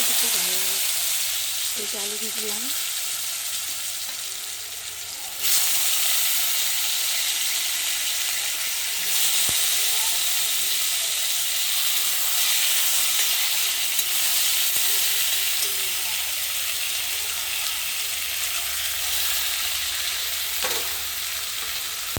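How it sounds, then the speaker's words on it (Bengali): Potatoes, papaya, onion and green chillies frying and being stirred in a pan, a steady loud sizzle and hiss throughout, with occasional scraping stirs and brief faint speech. "এই আলু দিয়ে দিলাম পেঁপে আর পেঁয়াজ দিয়ে দিলাম দুটো কাঁচা লঙ্কাও দিয়ে দিয়েছি লাল লাল করে ভেজে নেব"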